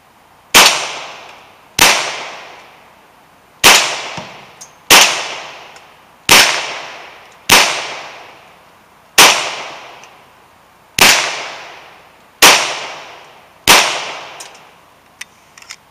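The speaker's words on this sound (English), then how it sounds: "I'll be shooting my Ruger Mark II target pistol." Ten sharp gunshots from a Ruger Mark II target pistol with a 6 7/8 inch barrel ring out at a shooting range, loud and evenly spaced about a second or two apart, each with a short decaying tail.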